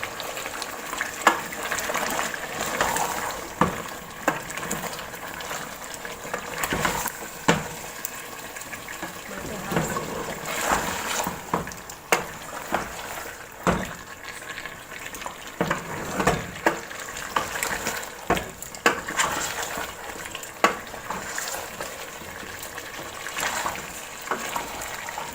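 Mutton and turnips sizzle and fry in a pot for a dhaba-style shaljam gosht, a steady close crackle broken by stirring and scraping, with someone speaking over it.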